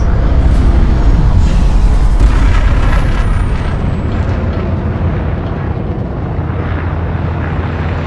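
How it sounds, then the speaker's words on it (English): A ship in Elite: Dangerous retracts its landing gear: a loud low mechanical roar and whoosh with a hissing sweep that fades slightly, set over steady engine rumble. "Landing gear retracted"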